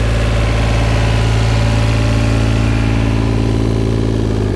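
A 2002 two-ton mini excavator engine runs steadily at high throttle, a loud, constant, close-up drone with no breaks.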